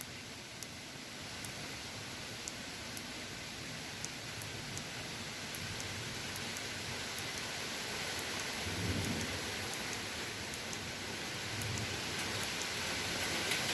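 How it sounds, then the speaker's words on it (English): Steady rain hisses throughout, with a low distant rumble of thunder building near the middle, and faint regular clicks ticking over it. "I know I got a storm going in the background"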